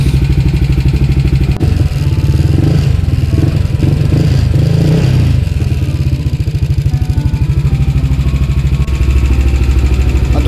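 A scooter engine treated with nanomoly oil idles nearby, its steady rumble carrying a light, rhythmic mechanical ticking throughout, with a brief rise in revs partway through.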